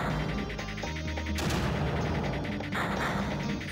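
Mortars fire in the Creeper World strategy game in rapid, dense bursts of crackling blasts over a busy electronic backdrop.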